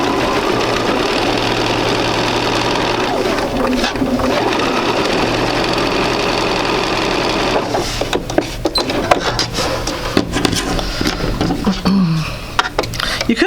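A sewing machine stitches quilt pieces together in a loud, rapid, continuous whir for about seven seconds, then runs in shorter bursts with handling clatter.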